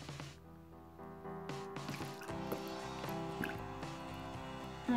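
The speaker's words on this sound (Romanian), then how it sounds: "Acum vom umple bolurile de lipici cu apă." Water is poured into bowls of glue while making neon slime, giving soft close wet splashes, drips and squishy trickling that grow busier over a few seconds, quiet and without talk.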